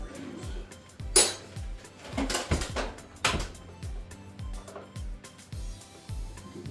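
A mix of metal fasteners and small hardware is handled and sorted, giving scattered close clinks and rattles with a few sharper metallic knocks over a low background hum.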